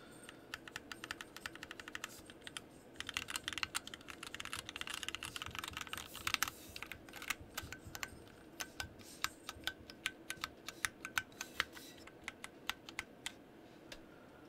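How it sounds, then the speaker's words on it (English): Rapid clicking keystrokes from a mechanical keyboard with slight spring ping, close and fairly quiet, typed in quick irregular bursts with brief pauses. "A little bit of ping with heavier typing, but it sounds like spring ping."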